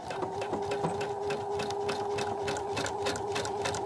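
A sewing machine runs with its thread tension set too tight, stitching steadily with a fast, continuous mechanical whirr and rapid needle clatter that stays loud and close throughout.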